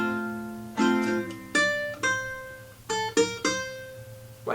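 A guitar picks a slow melodic phrase on the first string, five ringing notes with a short pause partway through, close and clear with no talking.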